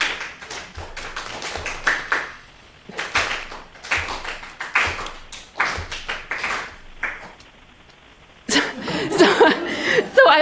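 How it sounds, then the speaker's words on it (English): An audience claps in short bursts during a city-versus-mountain picture task, scattered ragged volleys separated by pauses, with chuckles and a louder mixed burst of clapping and laughter at the end. "your job is to clap every time you see a city and not to clap when you see a mountain"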